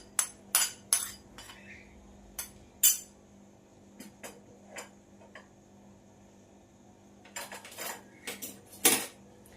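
Metal spoon clinking and scraping against a pan while spices, onion paste and coriander-green chili paste are mixed into chicken, a series of sharp, irregular clinks with quiet gaps between them.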